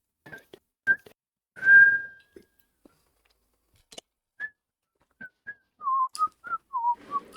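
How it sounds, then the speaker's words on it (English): A person whistles a string of short, clear notes, starting with a few isolated chirps and one longer held tone, then a quick run of pitched notes, close and alone in a quiet room. "I learned how to whistle in second grade randomly."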